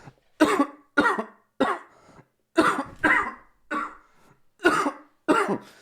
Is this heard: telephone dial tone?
no